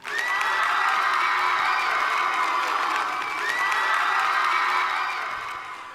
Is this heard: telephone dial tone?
no